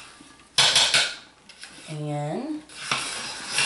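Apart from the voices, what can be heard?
stirring hot-process lye soap in a crockpot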